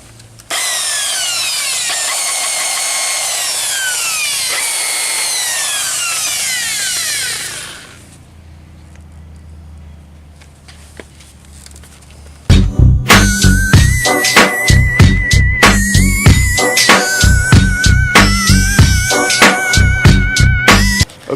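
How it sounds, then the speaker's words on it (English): A power buffer polishes sanded Subaru exhaust tips, first a steady whirring drone that winds down, then a loud rhythmic whine pulsing in repeated surges close by. "what I need to do is take some polish, a buffer, and give them a quick shine."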